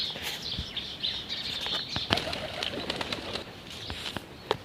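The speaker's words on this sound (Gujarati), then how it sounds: "તો આપણે કબૂતર આવી ગયા ઘરે" Pigeons nearby with soft flutters and wing flaps, brief calls and scattered clicks over a constant background hiss.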